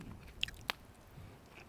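Someone chews pork belly in a quiet room, with a couple of soft bites and one crisp crunch close to the mic, then low, muffled mouth sounds.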